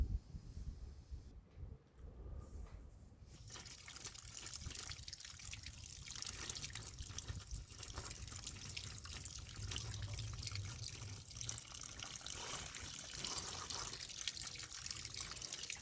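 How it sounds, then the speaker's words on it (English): A water tap runs steadily into a sink while a Sarracenia pitcher plant rhizome is rinsed of peat moss. After a brief quieter start, a continuous splashing rush of water holds close and unbroken throughout. "so I'm going to wash the rhizome under the tap"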